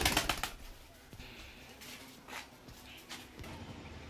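Pigeons being released, a burst of wing flapping up close at the start, then faint fluttering and light rustling fading in a quiet room.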